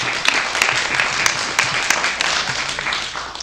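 Audience applause for a District 5 City Council candidate at a December meeting, a dense, steady wash of many hands clapping at close range with no voices, holding level for a few seconds.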